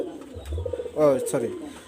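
Pigeons kept for sale coo in a short, low burst lasting under two seconds, near and fairly clear, with a voice briefly present alongside.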